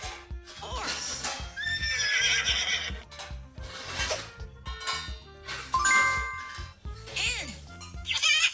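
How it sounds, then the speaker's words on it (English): Cartoon horse neighing and whinnying in a kids' animal nursery-rhyme track, a few loud, shrill whinnies over upbeat music with bell-like jingles and some clip-clop accents. "Horse"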